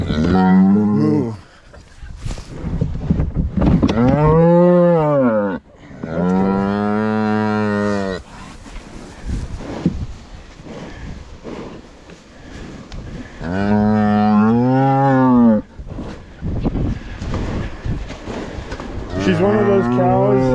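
A cow bellows in a barn during calving, giving several loud, drawn-out moos close by with short pauses between them; a person speaks briefly at times.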